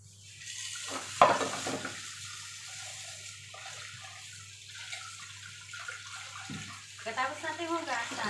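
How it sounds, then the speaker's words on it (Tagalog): Pork meat is washed in water before boiling for a Filipino root and mung bean soup, with splashing and sloshing bursts, a sharp clatter early on and a continuous low hum as a person talks. "hugasan muna natin ang ating karne, tas pakuluan na natin para matanggal ang kanyang impurities"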